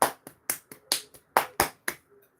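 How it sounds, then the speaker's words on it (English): About eight hand claps at close range in an uneven rhythm, sharp and moderately loud, each quickly decaying, with no voices. "So clap your hands, guys."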